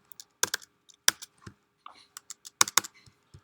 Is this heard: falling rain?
no